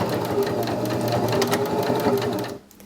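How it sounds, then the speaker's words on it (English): Steady close-up whir of a sewing machine running continuously as it stitches quilt binding, then stopping abruptly near the end. "And then you're going to sew."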